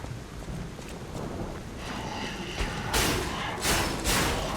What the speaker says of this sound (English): Started raining quite heavily here in real life.